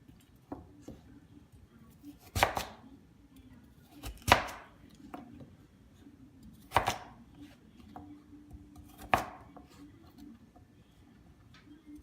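Sweet potatoes being chopped with a knife on a board, about five sharp, distinct thuds spaced a couple of seconds apart, with faint kitchen noise between cuts.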